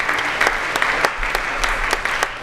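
Audience applause at a high school distinguished graduate ceremony, a full room clapping steadily and briskly from start to finish with no voices over it.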